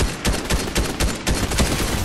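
Rapid volleys of gunfire in a shooter video game, dense overlapping bursts of shots at a steady pulsing rhythm, loud and close throughout with no talking.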